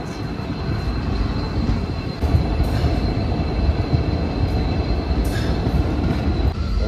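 The Sabarmati Express 19718 train rumbles along continuously, a low steady roar with faint rattling and occasional clanks, heard from inside or close by.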